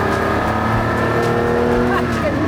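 Ferrari 250 SWB Revival in Ferrari blue with white spots, its engine running with a steady, loud mechanical drone and rich harmonic tones, heard from the cabin while someone talks over it.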